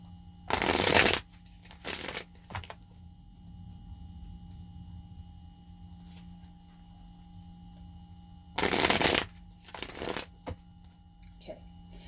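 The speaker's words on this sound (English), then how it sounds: "Do like 3 or 4 shuffles on this real quick." Two quick bursts of a deck of playing cards being riffle-shuffled, each a loud papery flutter followed by a shorter bridge riffle, with quiet pauses between.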